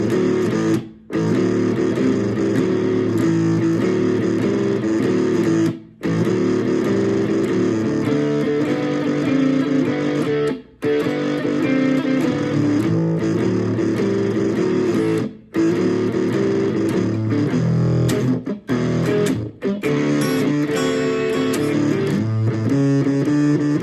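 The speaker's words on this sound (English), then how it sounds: "This is going to be a basic 12-bar blues" A simple 12-bar blues progression played on an Enya guitar: loud, continuous rhythmic strumming with a steady repeating pattern and brief pauses between phrases, no talking.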